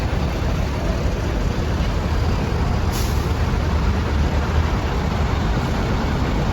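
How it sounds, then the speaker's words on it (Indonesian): A Mercedes-Benz UF 1623 intercity bus on a Surabaya–Malang route arrives with a steady loud engine rumble and a short hiss of air brakes partway through, with no talk. "sepertinya ini ya bus yang akan membawa kita ke Malang"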